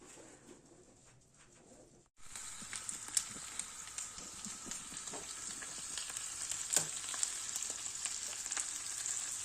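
Döner meat sizzles in a hot pan. After a quiet moment, a steady crackling hiss starts abruptly and continues, with small pops throughout.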